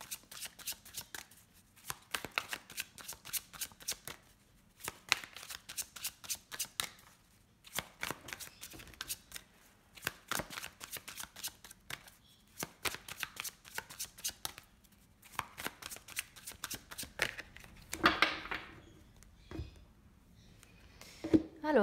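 Oracle cards are shuffled by hand in repeated quick bursts of riffling and sliding, each run separated by brief pauses, close and fairly quiet, with no speech.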